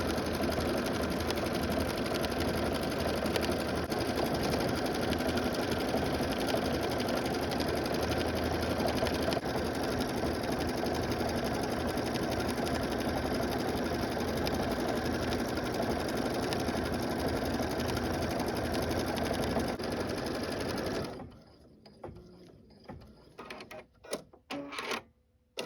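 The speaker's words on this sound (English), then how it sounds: "Okay, so now we're going to embroider it." A Luminaire XP3 embroidery machine stitching steadily, a dense continuous mechanical whir with a fast needle rhythm, loud and close, running alone for about 21 seconds before stopping abruptly into a few faint clicks and handling noises.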